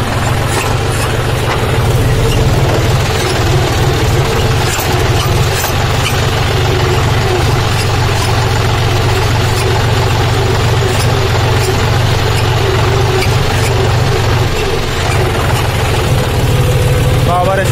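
A John Deere 5205 tractor, 2021 model with power steering, idles steadily with a loaded trolley attached, a constant low engine rumble running close and loud throughout with faint background noise.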